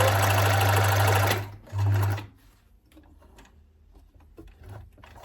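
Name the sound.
sewing machine stitching denim Quebec skirt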